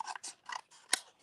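Scissors snip through thick watercolor paper in a quick series of crisp, close cuts, four or five separate crunching strokes followed by a sharp final snap, with no voices.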